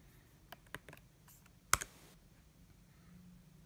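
Keys clicking as a chat command is typed on a computer keyboard for Google Hangouts, a few light scattered taps followed by a sharper cluster of clicks, quiet and close with no talking.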